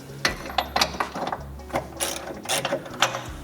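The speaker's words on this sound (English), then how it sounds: "we're gonna loosen these nuts on each side, pull that shim out" Ratchet wrench clicking in quick, irregular bursts while loosening the control arm nuts on a Porsche GT3 RS during an alignment, close and clear with short pauses between strokes.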